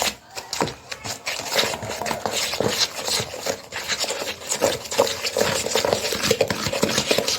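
Powdered ingredients are stirred into water by hand with a utensil in a bowl, making quick, close, rhythmic scraping and rubbing sounds that run steadily throughout, with no talking.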